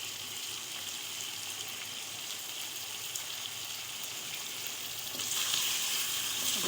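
Chicken gizzards fry with yogurt in a pan, giving a steady, quiet sizzle that grows louder and brighter near the end, likely as the food is stirred.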